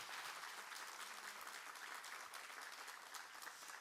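An audience of church elders at a national retreat applauds: a continuous wash of many hands clapping for about four seconds, quiet and somewhat distant.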